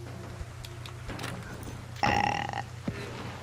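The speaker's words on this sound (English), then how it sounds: "Great, your burp got us spotted." A single loud, drawn-out burp of about half a second rises clearly above steady low background hum during an Arc Raiders game session, followed by faint shuffling.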